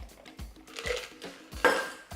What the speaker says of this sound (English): Add some more ice.